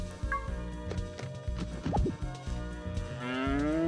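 A cow moos repeatedly in the farming video game Harvest Moon Magical Melody, with game music and a few clanks behind it, and a long, rising low call near the end.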